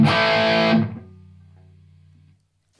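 A distorted electric guitar chord through a Boss SD-1 overdrive pedal rings loud and gritty for under a second, then a single low note sustains quietly before cutting off.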